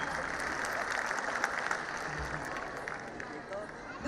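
Audience at a school annual function clapping, a broad continuous spatter of many hands with faint crowd murmur underneath, moderately loud and steady throughout.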